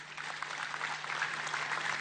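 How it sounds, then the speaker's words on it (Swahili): An audience at a gathering claps and applauds together, a dense moderate patter of many hands that holds steady throughout, fairly distant, with a low hum underneath. "mpigieni makofi"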